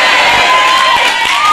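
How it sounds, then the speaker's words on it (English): A studio audience cheers and shouts for a new performer on a television show, a loud, dense crowd roar that holds steady throughout with no talk over it. "You could cheer then if you want."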